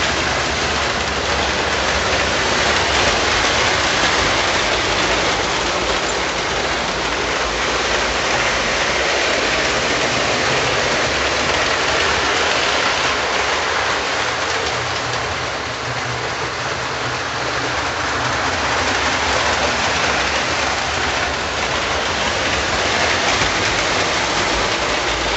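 Two Menards boxcars, a TP&W and a D&H, roll past on a model railroad track, giving a steady, continuous rushing rumble of wheels on rails that holds level throughout with no voices.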